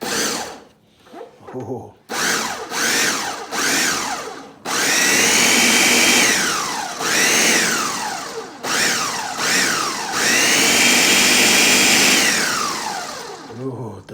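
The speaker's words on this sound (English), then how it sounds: "The blender has this pulse mode." A kitchen blender on pulse mode churns enchilada sauce in loud short bursts, motor whirring up and winding down between pulses before longer sustained runs, with a brief voice exclamation.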